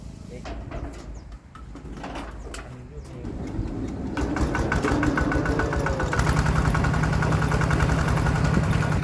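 A medium engine for pumping fish out of a rice-field pond starts up and settles into a steady, loud idle, with birds and a voice heard faintly early on.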